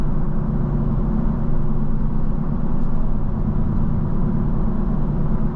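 Steady low tire and road roar inside a 2020 Toyota Sequoia TRD Sport SUV on TRD wheels while driving, a continuous dense rumble at even loudness throughout with no talk.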